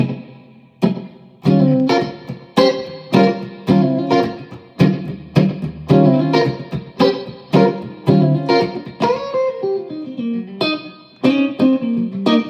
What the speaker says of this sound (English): right now all I've got is some slapback and reverb on